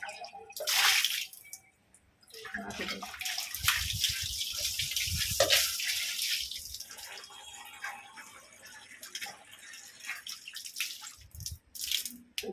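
Water is poured into an outdoor container set out for pigeons and crows, coming in several bursts of gushing and splashing separated by short pauses, close and fairly loud.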